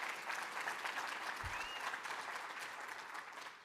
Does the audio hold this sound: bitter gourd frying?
no